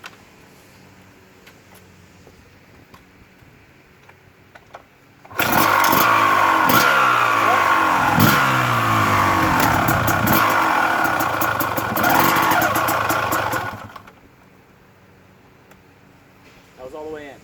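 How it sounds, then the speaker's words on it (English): Motorcycle with a Magura HYMEC clutch, engine idling and then running loud and steady in first gear for several seconds before dropping back to a low idle, with a voice talking over it. "First gear, clutch all the way in. See me creep forward like that?"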